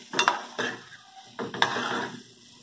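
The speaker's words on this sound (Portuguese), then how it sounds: "Eu só mexer aqui até ela enxugar um pouco e vou despejar." Spoon scraping and stirring a cuscuz mixture with flour in a pan, two bursts of clattering strokes with a pause between, close and fairly quiet.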